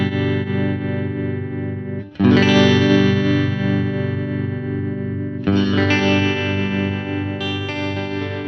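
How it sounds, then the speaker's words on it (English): Electric guitar played through a Spaceman Delta II harmonic tremolo pedal, sustained chords swelling and pulsing with a steady, slightly distorted tremolo wobble, loud and close, re-struck twice, with no talking. "let's bleed in that lag so you can start to hear the harmonicness a little bit"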